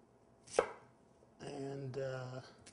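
A knife makes one sharp, close chop while rough-chopping a medium-sized onion on a board. A sustained tonal sound follows in an otherwise quiet kitchen.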